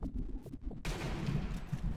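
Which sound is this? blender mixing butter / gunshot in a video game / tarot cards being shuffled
gunshot in a video game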